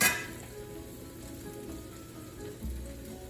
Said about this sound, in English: let's cook these mushrooms thoroughly till they are wilted and well cooked